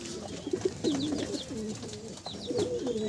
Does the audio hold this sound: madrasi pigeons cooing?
yes